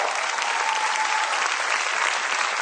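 Parents in a crowd at a junior-wing school annual function applaud the children with dense, steady clapping that fills the whole stretch at an even, loud level.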